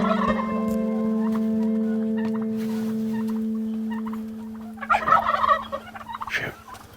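Wild turkeys gobbling during a hunt, a sustained buzzing call fading out before a short, loud burst of gobbling close by, with no talk.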